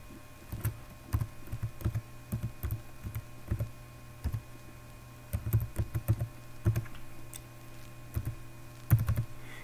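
A computer keyboard being typed on in short irregular bursts of crisp key clicks, close and fairly quiet, with brief pauses between clusters while a password is entered.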